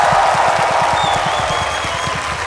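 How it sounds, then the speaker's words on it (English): A live audience at a podcast recording during DreamHack Melbourne applauds, dense sustained clapping from a large crowd, loud and steady throughout. "Give yourself a round of applause."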